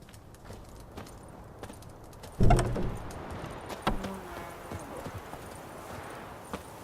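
Hooves of Roach, a horse in The Witcher 3, clip-clop sparsely at close range, with one heavy thud and a few scattered steps over a quiet background.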